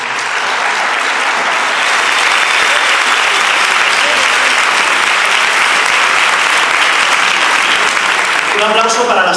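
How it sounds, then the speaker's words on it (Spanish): Loud, dense audience applause fills a political rally in Madrid, sustained and even throughout with no break, roaring from a large crowd close by. "Y para esa parte invisible yo os pediría un aplauso."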